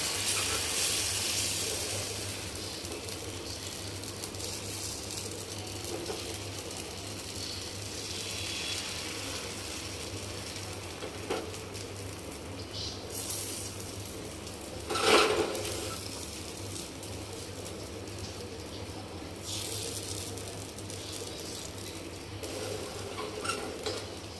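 Malpua pancakes frying in oil, a soft continuous sizzle with occasional stirring clinks and scrapes, plus a brief louder burst midway, fairly quiet and without speech.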